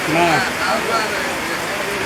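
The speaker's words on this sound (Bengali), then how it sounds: "এরকম বৃষ্টি আর কখনো দেখি নাই" Very heavy rain pours down steadily over a village, a dense, unbroken roar of hiss filling the whole clip while a voice talks over it.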